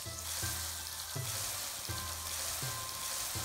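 Chopped onion, garlic and ginger frying in hot oil for shrimp polao, a close steady sizzle with rhythmic low thuds and scrapes of stirring roughly every second, fairly quiet and without speech.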